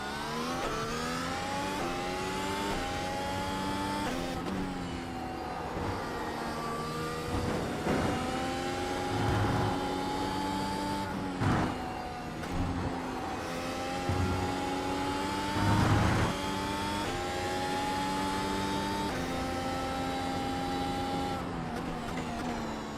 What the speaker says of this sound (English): Sounds like wheel damage, perhaps.